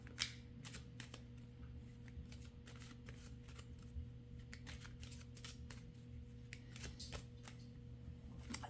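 Rider-Waite-Smith tarot cards being shuffled, giving a run of quick soft riffling flicks and snaps close by over a steady low hum, with no talking.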